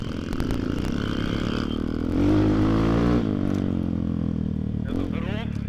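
A Motoland XR250 motorcycle runs in a winter forest. Its engine drones steadily, then revs up briefly and settles back to idle, while people talk over it.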